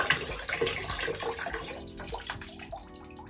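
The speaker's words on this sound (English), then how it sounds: "I'm gonna take some of this apple cider vinegar with the mother and just pour it in there" Apple cider vinegar pours and splashes into water in a bathtub, a steady wet trickle that gradually softens.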